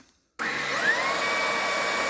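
A Ryobi ONE+ HP 18V brushless cordless pet stick vacuum switches on after a brief silence, then holds a steady, close whirring hum with a high motor whine.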